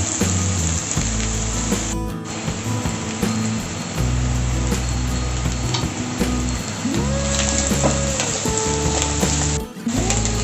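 Sliced onions sautéing with salt in a pan for a Kerala beef stew, a loud, steady sizzle that runs throughout with occasional stirring scrapes and two short dips where the hiss briefly drops away; no one speaks.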